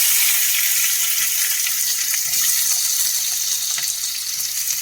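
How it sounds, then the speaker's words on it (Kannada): Cumin, chana dal and urad dal sizzle in hot oil as a tempering for a greens stir-fry. The frying hiss is steady and close throughout, with no talking. "ಈಗ ಚೆನ್ನಾಗಿ ಫ್ರೈ ಮಾಡ್ಕೊಳ್ಳೋಣ"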